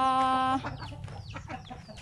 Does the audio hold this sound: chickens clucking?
yes